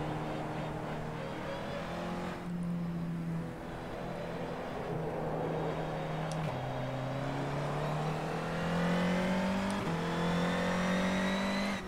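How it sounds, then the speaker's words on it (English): Race car engines in a racing simulator during a 2018 ITC league race in Japan, a loud, continuous whine rising through the gears with quick shift drops and the rasp of a second car blending in, no voices. "There's a car coming out the corner behind you."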